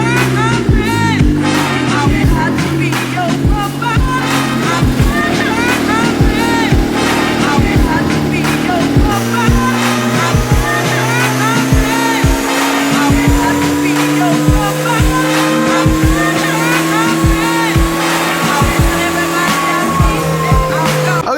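A $600 eBay-turbo Honda Civic engine revs hard on a dyno under about 9 psi of boost, a loud, sustained, buzzing drone that climbs steadily in pitch over twenty seconds, with sharp crackling pops throughout.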